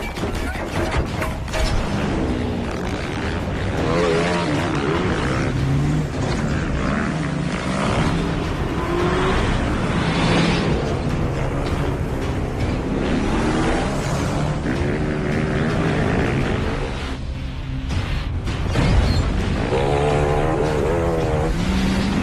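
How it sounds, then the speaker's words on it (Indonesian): A car races through a chase scene from a film, its engine roaring loudly and continuously with revving swells throughout, set among a dense, busy soundtrack mix. "Kelihayan Max dalam mengendari mobil membuatnya tidak terlalu sulit untuk membuat musuh berhenti mengejarnya"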